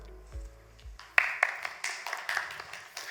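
Scattered, fairly quiet hand claps from a small audience at a Yongin Severance Hospital dedication presentation begin after a couple of soft thumps and continue unevenly.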